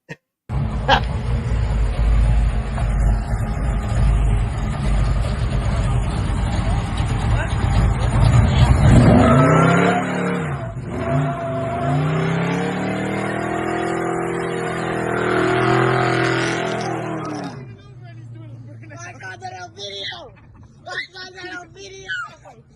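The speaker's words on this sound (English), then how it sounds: "I wanted them to rev it, not a burnout." A car doing a burnout roars loudly at high revs, its engine pitch sweeping up and down in long surges before cutting off, while people talk and shout nearby.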